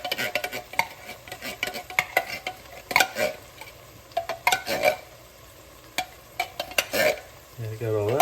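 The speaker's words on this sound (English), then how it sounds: "Stir that up a little bit." A spoon stirs chicken noodle soup in a pot nearby, making irregular metallic scrapes and clinks against the pan over a faint sizzle.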